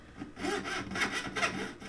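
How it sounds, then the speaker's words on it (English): A hand saw cuts narrow slits into wood for a box clasp, giving soft, close rasping strokes in a steady back-and-forth rhythm, fairly quiet and without voices. "Okay, sawing in place."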